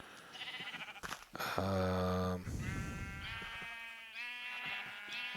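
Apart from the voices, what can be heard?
sheep bleating in Minecraft video game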